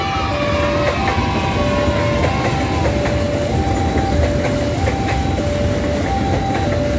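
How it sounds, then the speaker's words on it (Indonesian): A JR 205 electric train rolls into Duri station in Jakarta, with a steady loud rumble of wheels, rhythmic clicking over rail joints and a repeating two-tone warning chime from the level crossing. "JR 205 masuk stasiun Duri, tujuan akhir mana tuh?"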